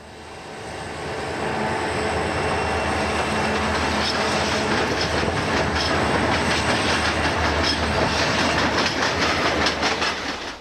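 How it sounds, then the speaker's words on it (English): Grand Trunk freight train 476 rolls into the former C&O DT&I interchange at Greggs, a loud, continuous rumble and roar that swells in over the first second and holds steady, with faint rhythmic clatter of railcars throughout and no voices. "Grand Trunk train symbol number 476 arrives at former C&O DT&I interchange at Greggs"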